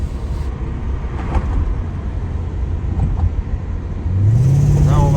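BMW E39 540i V8 accelerating with its exhaust valves closed, a steady loud engine drone that rises in pitch near the end as the car pulls harder, with talk over it.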